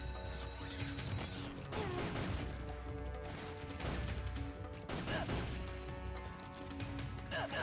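Gunfire in the video game Metal Gear Solid 3: Snake Eater, with bursts of loud, sharp shots and crashing impacts in rapid clusters over a busy, dense game soundscape.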